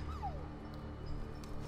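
A puppy in the World War I video game Valiant Hearts lets out a short, falling whimper, faint against a low, steady musical background hum.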